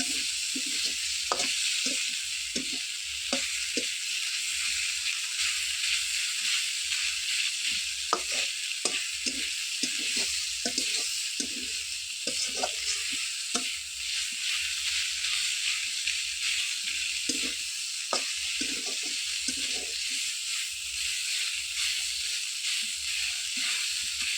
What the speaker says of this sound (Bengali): আর আদা রসুনের ভালোভাবে ভাজা ভাজা করে নেব যাতে আদা রসুনের সবুজ গন্ধ না থাকে।